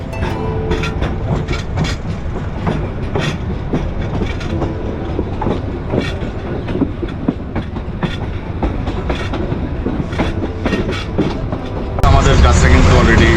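A passenger train travelling from Dhaka to Sylhet rumbles steadily with rhythmic clickety-clack from the wheels, loud and close, growing louder and harsher near the end.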